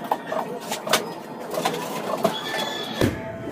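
Pigeons in a basket coo softly in low repeated murmurs, with light rustling and scattered clicks close by.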